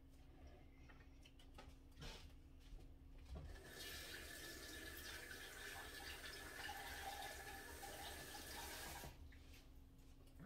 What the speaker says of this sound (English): Rinse the egg off of that